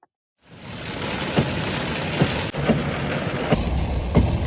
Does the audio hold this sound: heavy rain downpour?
yes